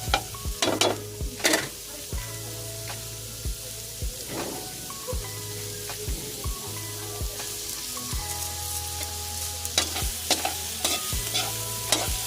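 Mixed seafood with shells cooking in a pan, stirred with rhythmic scraping knocks of a spatula over a constant sizzle, with a low steady hum underneath and no speech.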